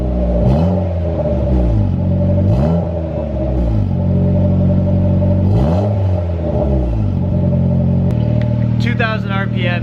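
Engine of an EG car revving repeatedly after a distributor rebuild, rising and falling in several loud swells held near 2,000 RPM, close and steady between revs, with a brief chirping sound near the end.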